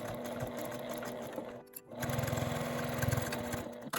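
A sewing machine stitches a quilted mini pouch made from fabric scraps, running steadily at close range with a brief pause midway before stitching resumes.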